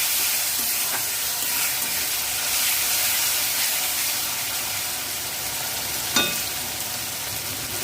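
Red chilli sauce stirred in a pan over a low flame, a steady hissing sizzle with faint scraping and one brief sharp tap, close and even, no speech.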